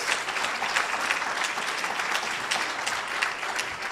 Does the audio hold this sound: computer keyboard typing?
no